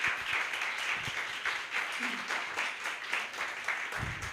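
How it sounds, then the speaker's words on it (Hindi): Congregation applauding in a church service, a steady wash of many hands clapping throughout with a faint voice or two underneath. "आए खुदाबंद के जलाल के लिए ज़ोरदार तालियां बजाएंगे,"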